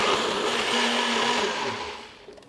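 A blender whipping chipotle, adobo, honey, salt and apple cider vinegar into a sauce, a loud close whirring hum that runs steadily and then winds down at the end.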